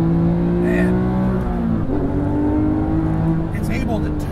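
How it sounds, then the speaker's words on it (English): A Porsche GT museum car driven hard on a race track, its engine droning at high revs from inside, with shifting pitch as it accelerates and eases, a voice speaking over it. "here is a little taste of what it's like to drive Porsche's own museum car on the track at speed"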